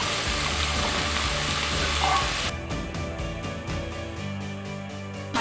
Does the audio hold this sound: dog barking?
no